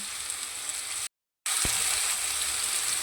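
Potatoes fry in hot oil with dried chilli and panch phoron, giving a steady close hiss of sizzling that is cut by a short gap and followed by a single sharp knock.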